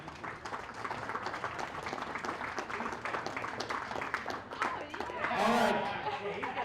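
An audience at a popsicle-stick bridge building competition claps for the winner, with scattered hand claps and crowd murmur running through, fairly distant and moderate, and some voices mixed in.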